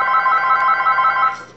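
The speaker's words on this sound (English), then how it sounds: "That's my phone." A telephone rings loudly and steadily, close by, in a quiet room where polymer clay miniature work is going on; the ring holds through the clip and begins to fade at the very end.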